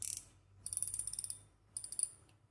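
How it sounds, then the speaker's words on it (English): Mifine Tourment aluminium-spool fishing reel drag clicks in two quick bursts of crisp, close ratcheting, about a dozen even clicks, then a pause and a shorter run. Light and bright, with no voice. "very light drag adjustment sound, pretty smooth out of the box."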